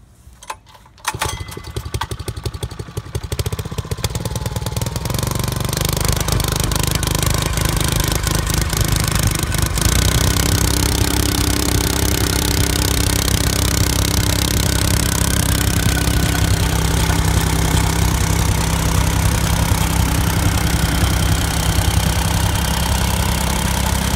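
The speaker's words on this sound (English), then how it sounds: "So we'll go ahead and start it here." A 2013 Bomag BT 65/4 jumping jack rammer with a Honda four-cycle engine sputters to life, then settles into a loud, steady, close-up running drone that continues unbroken to the end, with no voices.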